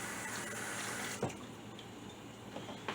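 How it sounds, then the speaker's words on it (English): Tap water runs steadily while vegetables are rinsed for ramen, a broad close wash that stops abruptly partway through, followed by a few faint clinks and splashes in a quiet kitchen. "And then rinse them off a little bit."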